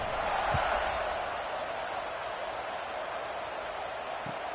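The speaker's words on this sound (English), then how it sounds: "this crowd is buzzing after that last score" Steady crowd buzz filling a stadium in the NCAA 26 college football video game after a score, a broad continuous roar at moderate level with no clear individual voices.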